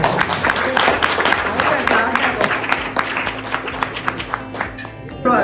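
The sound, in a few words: audience applause at runners' party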